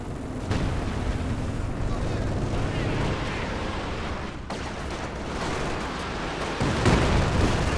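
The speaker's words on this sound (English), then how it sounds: "Another effective Katyusha barrage." Katyusha rocket artillery barrage in a Company of Heroes 2 match, a dense continuous rumble of rocket impacts and blasts with a sharp burst near the end, heard under battlefield noise.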